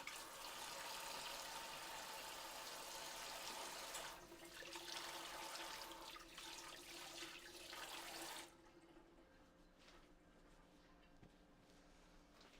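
Tap water runs into a kitchen sink while hands are washed, a soft steady hiss that changes partway through and then stops, leaving a quiet room.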